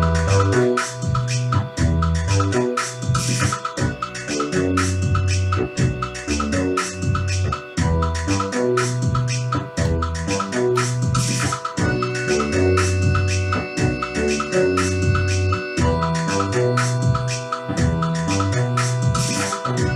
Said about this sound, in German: Ich habe mir ein Loop gemacht, den habe ich innerhalb von einer Stunde hingekriegt.